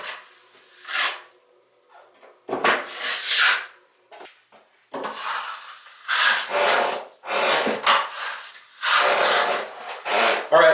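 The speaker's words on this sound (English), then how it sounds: "I'm just skimming real light over them as I'm doing the corner as well" A drywall knife skims compound lightly over rough painted walls and a corner, making repeated scraping rubs in bursts of one to two seconds with short pauses between strokes.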